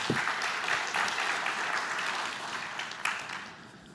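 An audience at a tech conference claps to welcome speakers to the stage, a dense even burst of applause that stays steady and then begins to thin out at the end.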